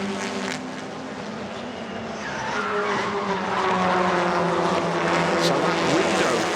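TCR touring cars, led by a Hyundai, Audi and Honda, accelerate off the start at Zolder in Belgium. Their engines rise together into a loud, building roar with rising pitch sweeps, continuing without pause under faint background noise.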